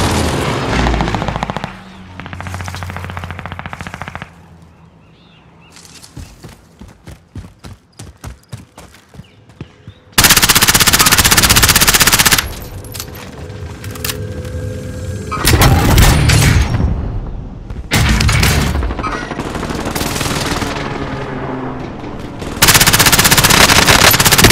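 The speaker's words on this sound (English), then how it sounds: "Allied precision airstrike incoming." An allied precision airstrike and gunfire in Call of Duty: Modern Warfare. Long bursts of loud machine-gun fire and booming blasts alternate with quieter gaps of rapid, rattling single shots, all close and intense.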